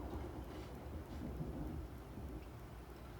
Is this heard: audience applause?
no